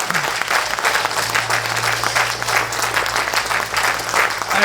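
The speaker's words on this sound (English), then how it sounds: "I would like everybody to give James a round of applause and a cheer for his generosity" A crowd gives a loud, sustained round of applause with cheering, dense and even throughout, with a low steady hum beneath.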